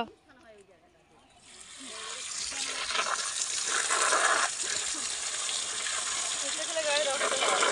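Cut kuche fish (small freshwater eel-like fish) being washed in water, a steady close gushing and splashing that starts after a quiet second and continues loudly to the end, with faint voices early on.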